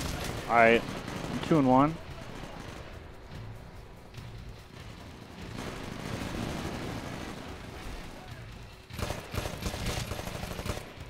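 Gunfire in the multiplayer shooter Titanfall, with rattling bursts in the middle and a sharper burst near the end, mixed with game ambience after someone speaks briefly at the start.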